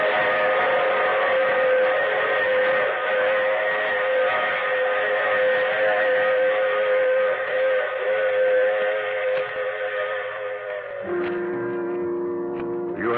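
A train sound effect in an old-time radio drama, steady rumbling rail noise carrying on for the full stretch, with a brief whistle-like tone rising near the end; no one speaks over it.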